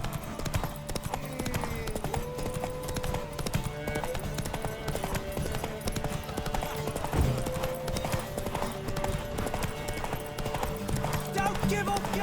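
Horse hooves gallop in a steady clip-clop rhythm during a race in The Witcher 3, running under game music, with voices talking over them.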